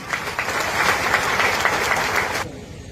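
Crowd at a sanitation workers' meeting breaking into sustained applause, dense steady clapping from many hands that stops abruptly near the end.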